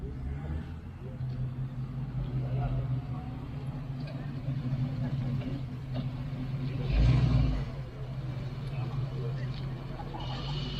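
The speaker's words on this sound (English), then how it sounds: "Followed swiftly by a Mustang." A classic Ford Mustang drives past at the Gazoline Festival, its engine note rising to a brief loud swell over a steady background rumble while someone commentates.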